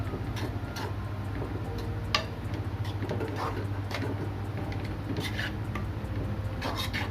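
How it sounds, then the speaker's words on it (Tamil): Vegetable idiyappam mixture being stirred in a pan produces a scattered run of light scraping and clinking strokes from a utensil against the metal. The strokes fall at an irregular pace over a low, steady background hum, with one sharper knock. "கொஞ்சமாக அப்படியே கிளறி விட்டுட்டே இருங்க"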